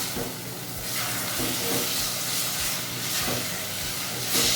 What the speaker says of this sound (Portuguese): colocar a outra parte do alho. Vamos refogar